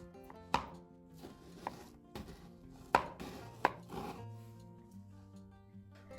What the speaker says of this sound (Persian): نصف یه نون همبرگر رو اسلایسی برش بزنید.